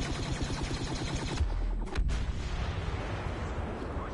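Blaster gunfire in the video game Star Wars Battlefront, a rapid burst of repeated shots followed by a sharp loud blast and a rumbling aftermath, close and loud with no talking.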